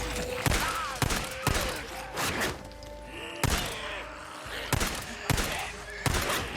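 Gunfire in the video game Days Gone, with sharp, heavy shots going off roughly every half second to second under a rumbling game soundscape, loud and close, with faint voice in the background.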